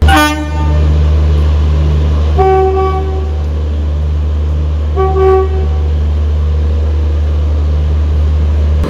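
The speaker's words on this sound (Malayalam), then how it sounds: "നമ്മുടെ പുഷ്പുൽ രാജധാനി വന്നിരിക്കുകയാണ്" A push-pull Rajdhani Express with locomotives at both ends pulls in at a platform on the Mumbai–Delhi route, a heavy low rumble under two separate horn blasts, close and loud throughout.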